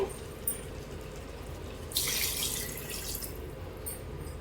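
Water poured into a pressure cooker while cooking country chicken curry, a brief splashing pour burst near the mic for about two seconds amid a quiet kitchen.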